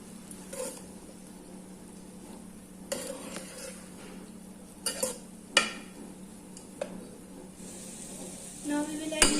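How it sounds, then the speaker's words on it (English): Rice being mixed with spring onion in a pan for burnt garlic rice, with a quiet steady sizzle and intermittent scrapes and clinks of a utensil against the pan. "Now we will mix the rice."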